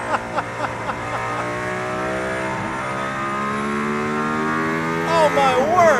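The Mercedes-AMG ONE hypercar drives on a circuit near Barcelona with a steady high-pitched engine and turbine whine heard from inside. Pitch shifts come as it accelerates, and brief voices sound near the start and end.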